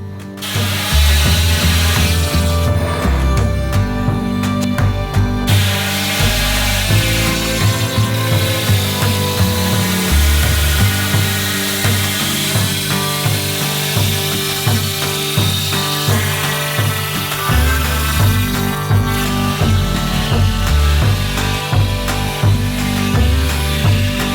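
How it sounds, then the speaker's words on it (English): A milling cutter grinds through a giant 925-pound Haribo-style gummy bear, a loud continuous machining whine and rasp with a short pause early on, running steadily without talk. "Such a milling cutter is needed to sample a large volume of material."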